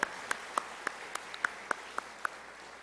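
Scattered applause from a church congregation, a handful of separate sharp claps spaced irregularly, fairly quiet and thin, as if only a few people are clapping in a large room.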